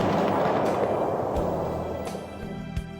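A Shinkansen bullet train entering a tunnel pushes a pressure shock wave ahead of it, heard as a steady broadband roar with a couple of dull, deep booming thumps spaced well apart.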